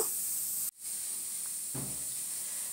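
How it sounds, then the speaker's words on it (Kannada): Chopped onions, curry leaves and fenugreek seeds frying in hot oil for a chicken curry tempering, a steady close sizzle and hiss with a brief break and a soft clatter partway through. "ಸಣ್ಣದಾಗಿ ಕಟ್ ಮಾಡಿದ ಈರುಳ್ಳಿಯನ್ನು ಹಾಕಿ ಫ್ರೈ ಮಾಡ್ತಾ ಇದ್ದೇನೆ"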